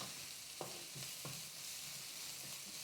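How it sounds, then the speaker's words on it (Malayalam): Spice powders, including chili powder, being sautéed in a pan for green peas curry: a faint, steady sizzle broken by a few soft spatula scrapes early on, with no voices. "ഇനി ഈ പൊടികളെല്ലാം കൂടെ മിക്സ് ചെയ്ത് നന്നായിട്ട് ഒരു മിനിറ്റ് വഴറ്റാം."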